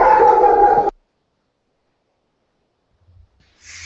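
A dog gives a single short bark or yip, loud and close, followed by near silence and faint faraway noise.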